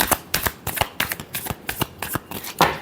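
Tarot cards are shuffled by hand in quick, papery riffles and flutters, close and fairly quiet, with a final bridge-like burst near the end and no voice over it.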